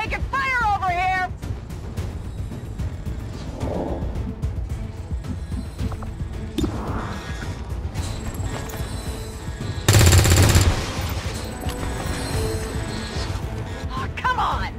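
Rapid automatic gunfire in the tactical video game XCOM 2 rattles in loud bursts, with a sharp heavy blast of shots about two thirds through, over game music and effects, with a soldier voice shouting early on.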